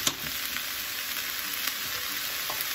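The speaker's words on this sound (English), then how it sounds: "I really want to have the mushrooms fried up nicely in here." Mushrooms and onions frying in a pan give a steady, even sizzle that stays close and fairly quiet, with a few faint clicks of movement on top.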